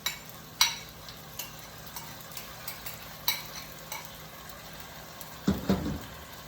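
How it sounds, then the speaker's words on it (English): Tomato paste being stirred into sizzling vegetables for an Italian pork ragu: soft sizzling under repeated scraping stirs, with a louder clatter near the end. "let me stir that first before I add the wine"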